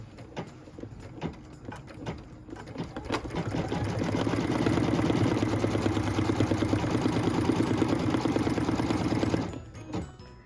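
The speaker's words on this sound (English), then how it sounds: "we're going to start off by stitching the placement line for the background of the quilt" A sewing machine stitches a placement line for the background of a barn quilt block, running as a steady, fast mechanical whir that builds and holds for several seconds before stopping, with a few lighter clicks around it.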